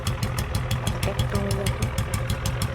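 A Bullet motorcycle engine idles in a farming video game, a steady thumping rhythm of regular low pulses, close and loud with no pauses.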